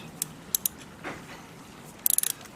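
Ratchet wrench working a spark plug on a Toyota Avensis engine: a few separate metallic clicks, a soft clunk, then a quick burst of ratcheting clicks, close and crisp with no talk.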